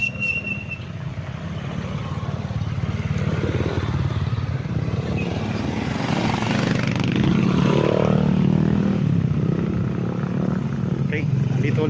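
Vehicles, motorcycle-like, pass along a roadside highway beside a farm lot in Majayjay, Laguna. The steady road rumble swells as one goes by, heard under continuous talk.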